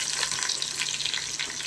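Curry leaves dropped into hot oil for chicken biryani hiss and crackle in a steady, close, bright sizzle with no voices over it.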